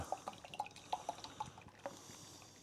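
Rivington Triple craft beer glugs from a bottle into a glass, a quick run of gurgles and bright drips close by, faint overall and with no voices.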